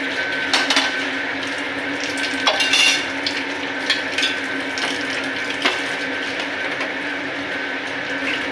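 Water poured into chicken kosha cooking in a pan, then stirred, giving a steady sizzling hiss with spoon scrapes and clinks against the pan, close and continuous, with no talking.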